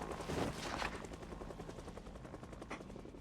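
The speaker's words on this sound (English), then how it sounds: "now I have to deal with a chopper?" A video game helicopter's rotor thumps steadily in a dense, rapid pulse, loud and close, with a constant engine roar underneath.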